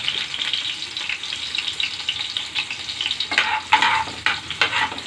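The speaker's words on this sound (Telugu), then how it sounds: "నెక్స్ట్ ఇంగ్రీడియంట్స్ ఎల్లిపాయ ఫేవరెట్ మొత్తం వేసేస్తున్నారు." Chopped garlic frying and sizzling in a hot pan of oil for a Telugu-style baingan bharta, with a steady close crackle and bursts of louder spattering as it is stirred, no talking.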